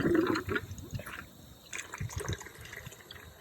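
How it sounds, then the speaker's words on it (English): A leaky garden hose runs into a bucket, giving a faint, steady trickle and splash of filling water with soft drips and gurgles, distant and low, with no one speaking. "I'm gonna turn the hose on, just like so, and I'm gonna fill this up with some water"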